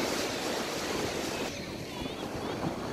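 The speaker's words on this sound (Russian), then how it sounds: "Море, океан." Pacific Ocean waves break on a San Diego beach, making a continuous broad rushing surf mixed with wind buffeting the microphone.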